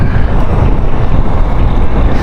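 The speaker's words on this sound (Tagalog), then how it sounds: "galing ang hangin." Steady northeast monsoon wind, the amihan, roars loudly and continuously across the microphone outdoors, a dense low rumble of buffeting gusts that never lets up, with no voices heard.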